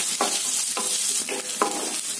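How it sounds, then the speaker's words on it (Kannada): Garlic, curry leaves and onion fry in a pan for a drumstick masala palya: a close, steady sizzle broken by four rhythmic stirring scrapes of a spoon against the pan. "ಈ ಬೆಳ್ಳುಳ್ಳಿ, ಆನಂತರ ಈ ಕರಿಬೇವು, ಆನಂತರ ಈರುಳ್ಳಿ, ಇದೆಲ್ಲವನ್ನ ಹಾಕ್ಬಿಟ್ಟು ಚೆನ್ನಾಗಿ ಫ್ರೈ ಮಾಡ್ಕೊಳ್ಳಿ"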